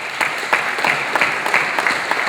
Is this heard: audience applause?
yes